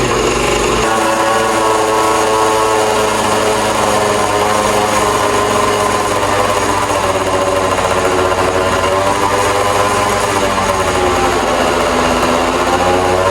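A 2005 Yamaha Zuma scooter with a cheap big bore kit and a 120 main jet revs steadily, its engine droning loud and close for about thirteen seconds with no voices.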